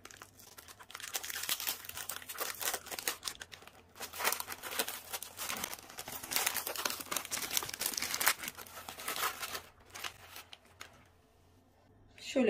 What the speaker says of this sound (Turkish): Şimdi hemen açalım ve bakalım tadı nasıl,